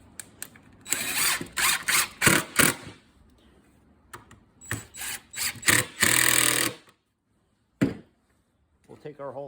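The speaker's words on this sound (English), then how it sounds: "We're going to drill it off just a little bit." Power drill fitted with a hole saw cutting into a wooden board, several loud grinding bursts of varying length, with short pauses between them.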